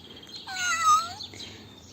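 A cat meows once from a children's lift-a-flap sound book, a single recorded rising-and-falling meow about a second long, with no talking.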